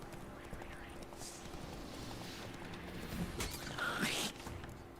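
Roach the horse's hooves clip-clop softly in The Witcher 3 while stuck on a small pebble, a steady low patter under someone talking over the game.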